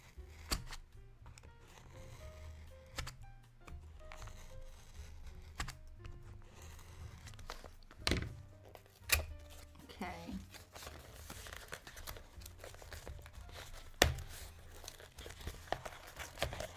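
A factory-sealed, paper-wrapped box of wooden crayons cut open at a desk, with scattered soft paper crinkles, tearing and sharp snips, faint and intermittent under a quiet voice.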